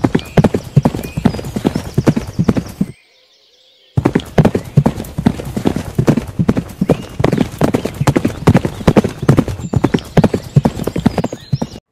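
Horse hooves clip-clopping loudly and close in a fast, steady rhythm, broken by a pause of about a second before resuming at the same pace.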